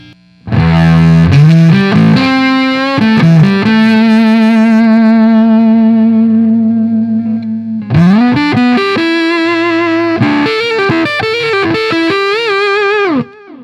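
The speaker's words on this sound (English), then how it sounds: "Here is clean Splawn and Fuzz Face." An electric guitar played through a Fuzz Face pedal into a clean Splawn amp gives thick, fuzzy sustained notes and short riffs, loud and close, with a brief gap before a second phrase.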